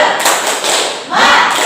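Fourth-grade schoolchildren standing in a classroom doing the tepuk semangat clapping chant, a dense burst of many hands clapping together with their voices mixed in, loud and close throughout.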